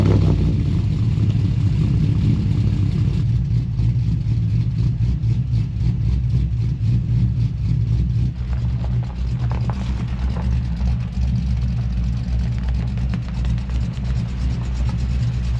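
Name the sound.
cars being moved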